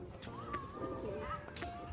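Pigeons coo softly and intermittently close by among a flock kept in a village loft, with some chirps and faint background voices.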